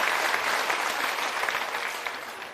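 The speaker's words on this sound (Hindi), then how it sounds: "ताली बजा दिए, बुझाया नहीं।" A crowd at a political rally led by Prashant Kishor applauds steadily, dense continuous clapping filling the space at fairly close range, slowly tapering toward the end with no voices above it.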